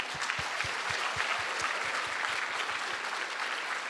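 Steady audience applause at a community honors event recognizing people over eighty, dense clapping sustained throughout at an even level, with a regular low thumping beat running beneath the clapping.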